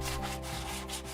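Steady abrasive rubbing of sandpaper against wood, close and continuous, with a faint hum underneath and no voices.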